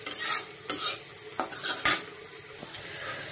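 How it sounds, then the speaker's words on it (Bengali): Lentils and onion stir-fried in a wok make scraping and shuffling sizzle in several short bursts, a few sharp utensil scrapes against the pan over a low frying hiss. "ডালটাকে ভাজা ভাজা করে নেব হালকা"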